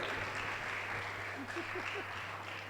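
Audience applause at an oath-taking ceremony in Rewari, Haryana, a steady dense wash of clapping throughout with a low hum underneath and no talk.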